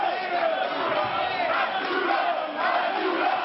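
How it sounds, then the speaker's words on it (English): A wrestling arena crowd roars and chants steadily to rally Abdullah the Butcher in his final match in Montreal, a dense, loud wall of voices that rises and falls with no break. "The crowd's trying to rally Abdullah here"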